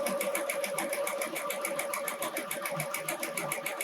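Sewing machine stitching quilt pieces, heard close and continuous with a fast, even mechanical pulse throughout the short burst, no talking.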